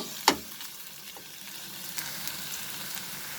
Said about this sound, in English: Over medium flame, we'll fry these onions till it becomes slightly translucent.